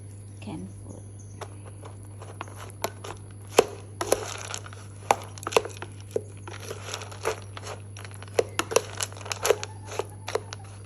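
Canned dog food being mashed and stirred into rice, with soft wet squelches and sharp clicks of a utensil scraping a bowl, irregular and close, over a steady low hum.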